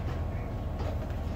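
Interior of a passenger train on a long-distance journey in Romania, a constant low rumble of the carriage rolling along the rails, steady and moderately loud with no clear breaks.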